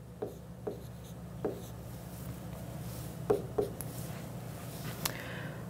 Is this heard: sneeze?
no